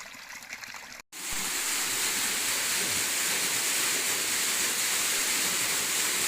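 River water channelled through a drain pours down into a well as a loud, continuous rushing roar, broken by a sudden cut of silence near the start.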